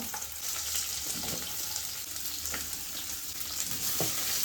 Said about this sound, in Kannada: ಅದನ್ನೆಲ್ಲ ಎಣ್ಣೆಗೆ ಹಾಕಿ ಫ್ರೈ ಮಾಡೋಣ